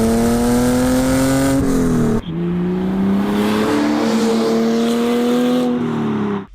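A car engine revs hard with rising and falling pitch through gear changes, loud and close, accelerating steadily with a brief drop between shifts before climbing again.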